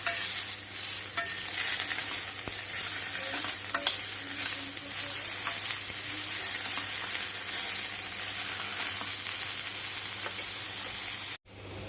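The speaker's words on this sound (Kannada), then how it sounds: "ಈಗ ಹಸಿಮೆಣಸಿನ್ಕಾಯಿ ಇಷ್ಟು ಫ್ರೈ ಆದರೆ ಅದಕ್ಕೆ ಸ್ವಲ್ಪ ಪುದೀನ ಸೊಪ್ಪು, ಸ್ವಲ್ಪ ಕೊತ್ತಂಬರಿ ಸೊಪ್ಪು ಹಾಕಿ ಚೆನ್ನಾಗಿ ಫ್ರೈ ಮಾಡಬೇಕು." Green chillies, mint and coriander leaves fry in hot oil for a mutton biryani, a continuous close sizzle with occasional stirring scrapes, steady and fairly loud throughout with no talk.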